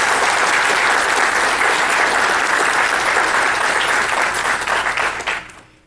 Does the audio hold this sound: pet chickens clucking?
no